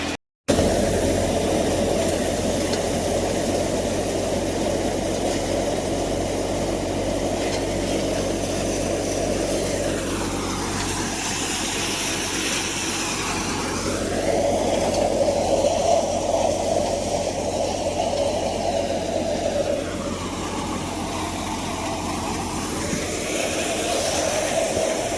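A Jangeer soybean threshing machine runs on a farm with a steady, droning engine roar that twice sags and recovers in pitch under changing load.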